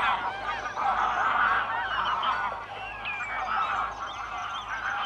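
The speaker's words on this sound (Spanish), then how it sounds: "coincide con la llegada de los gansos o ánsares comunes" A flock of greylag geese honking continuously in autumn wetlands, many overlapping calls at close to mid distance, loud and busy with no pauses.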